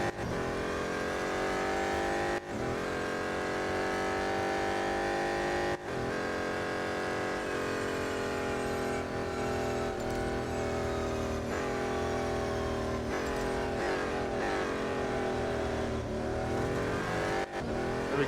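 A BMW M Hybrid V8 race car engine roars steadily in Real Racing 3, a loud sustained drone with rising and falling pitch through gear changes, continuous for the whole stretch with brief dips between shifts.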